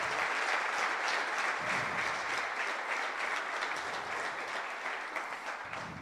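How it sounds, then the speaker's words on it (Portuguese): Dense, steady applause from a church congregation during a worship service, loud and continuous throughout, tapering slightly toward the end with no talk over it. "Eu queria que você aplaudisse ao Senhor em nome de Jesus."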